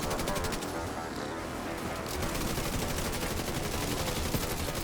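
Dense, continuous gunfire from the video game Division 2 rattles without pause, rapid overlapping shots forming a steady wall of sound mixed with game effects.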